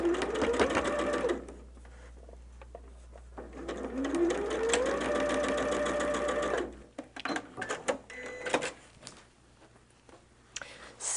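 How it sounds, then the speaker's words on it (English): Sewing machine stitching a holiday quilt block, running in two steady bursts of rapid whirring with rising motor pitch, separated by a pause, then stopping, followed by soft clicks and handling noises. "Stitching done on this block unless we find a problem."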